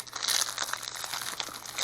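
Crinkly plastic blind box packaging from a MOJ MOJ Crunch series is torn open close up, with continuous crackling, rustling and small crunching bursts and no talk.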